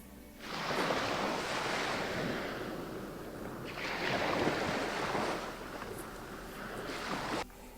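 Recorded sea waves played back from a sound website: broad rushing surf swells in long washes, with two or three big crests breaking and receding, steady and fairly loud with no voices.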